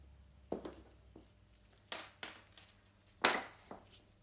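Small craft snips cut through cardstock paper with a handful of crisp, close snipping clicks spaced irregularly, alone in a quiet room.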